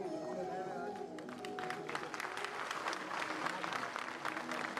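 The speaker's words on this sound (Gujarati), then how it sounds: "ખૂબ બધી તાળીઓના નાદ સાથે આપણે સાહેબને આ સમારોહમાં આવકારવા છે" An audience claps steadily to welcome Gujarat's chief minister at a development ceremony in Surat, a dense continuous applause with a voice over it at the start.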